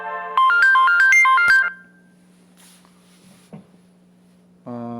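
A loud melodic phone ringtone plays a quick stepped tune for just over a second, then cuts off to quiet room hum before a brief tone resumes at the end.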